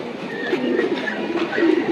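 A competition flying pigeon, one of a pair bred for flight contests, coos in soft repeated rolling calls close by, with a faint wash of background noise and almost no talk.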